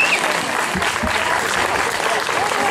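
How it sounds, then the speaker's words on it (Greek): Warm, continuous applause at a 1991 class reunion of the Almyros high school, many hands clapping steadily in a room with faint crowd murmur beneath. "Ένα χειροκρότημα για αυτούς."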